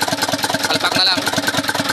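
A diesel Isuzu Elf truck with a 4HL1 engine runs after a replacement ECU was fitted, its steady rhythmic chugging close and continuous with clear regular firing pulses.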